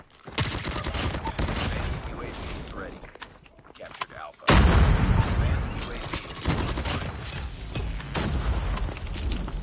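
FFAR rifle fire in a video game, with repeated loud bursts and booming shots, a brief lull in the middle, then heavy sustained firing, and someone speaking over parts of it.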